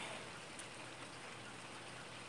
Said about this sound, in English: it's just turning into a rainstorm